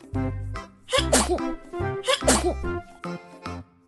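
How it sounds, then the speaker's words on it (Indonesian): A person sneezes loudly up close, two sneezes in a row, each with a sharp burst after a brief inhaling build-up. "Tiga, suara orang sedang bersin."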